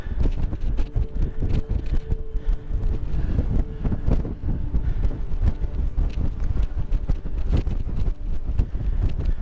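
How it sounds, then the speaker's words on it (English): Strong gusty wind near the top of Angels Landing in Zion buffets the microphone with low, rumbling roars that rise and fall continuously, with no talking. "the winds are definitely picking up"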